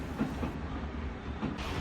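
A Paris metro train rolls along with a steady rumble and faint rhythmic clicks of the wheels over the rails, heard from inside a crowded carriage.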